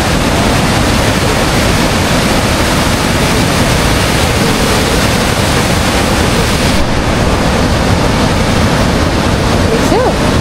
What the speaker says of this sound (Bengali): কীরকম পানির স্রোত দেখেন